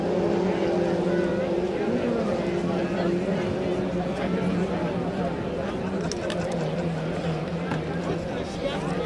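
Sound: racing powerboats at a hydroplane race start

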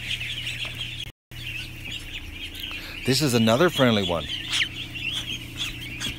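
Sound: goose calling

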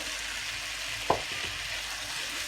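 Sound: tomato pieces added to frying spice paste, sizzling

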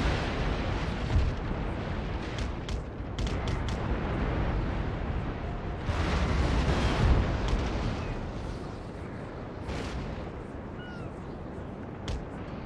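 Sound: warship cannon fire in Napoleon: Total War video game

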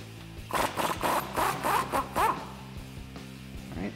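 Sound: 21 mm socket wrench removing a suspension bolt nut

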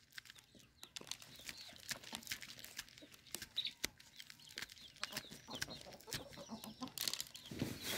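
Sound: chickens clucking

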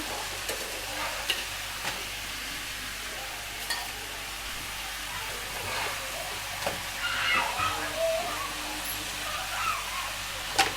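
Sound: stirring food frying in a pan

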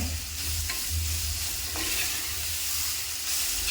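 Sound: onions sautéing with salt in oil

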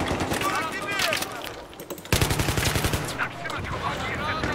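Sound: gunfire in Battlefield 3, video game

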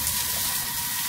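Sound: cevapcici frying in a pan

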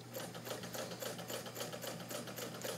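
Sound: White 1563 sewing machine stitching through three fabric layers

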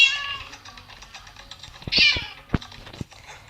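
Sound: cat meowing in Minecraft video game

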